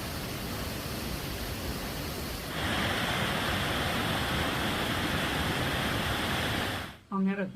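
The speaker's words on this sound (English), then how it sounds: "Waterfall and birds." Steady, loud rushing roar of a waterfall in a Japanese waterfall park, a broad continuous wash of falling water that grows fuller partway through, with a few faint bird-like chirps at the very end.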